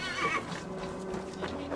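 A horse in Assassin's Creed Valhalla whinnies once, near and fairly loud, with a rising then falling squeal over a low ambient game background and no talk.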